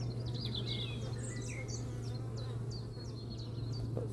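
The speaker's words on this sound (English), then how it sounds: "Lots of bees flying backwards and forwards." Many honeybees buzz at a hive entrance in a steady, close drone, with faint bird chirps scattered in the background.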